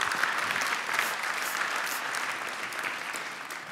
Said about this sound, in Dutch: nog één keer een applaus voor Michiel van der Vaart